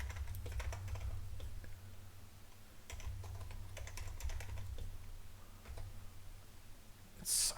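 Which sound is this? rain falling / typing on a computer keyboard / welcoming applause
typing on a computer keyboard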